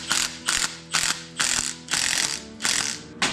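A socket wrench ratchets in a shop, giving seven loud, close bursts of rapid clicking at a steady, even pace with no talk.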